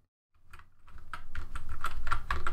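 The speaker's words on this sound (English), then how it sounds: "Now I'll press the caps lock key on my keyboard and retype those letters" Letters are typed on a computer keyboard in a quick, irregular run of clicking keystrokes that grows busier and slightly louder, with no talking.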